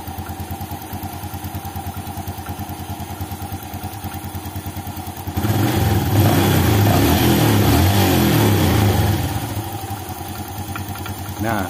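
A Honda-style Yamaha Jupiter Z1 motorcycle engine runs with a rattling clatter coming from the air filter intake; it idles loudly, revs up harder in the middle, then settles back to a clattering idle.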